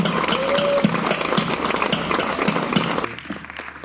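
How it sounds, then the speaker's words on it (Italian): An audience at an evening talk with swimmer Federica Pellegrini and writer Elena Stancanelli in Albarella gives loud, sustained clapping that rolls on steadily for about three seconds and then drops away quickly. "vi chiedo un fortissimo, grande applauso"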